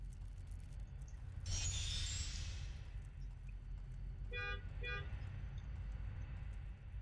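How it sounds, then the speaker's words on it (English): Two quick car horn toots sound a short way off over a low, steady traffic rumble, after a brief whooshing pass. "Please no honk your horn, people."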